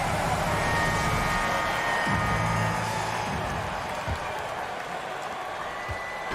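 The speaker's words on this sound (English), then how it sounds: "That's a big round of applause for your Knicks City Kids." A large indoor basketball arena crowd at a Knicks game applauds steadily, a dense wash of clapping and cheering that slowly fades a little.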